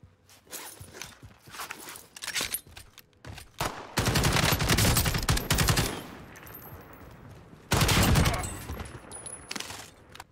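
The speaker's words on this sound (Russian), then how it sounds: "По кому он стрелял-то?" Video game gunfire crackling in bursts of rapid shots, with two long loud sustained volleys, mixed with footstep-like clatter and occasional speech.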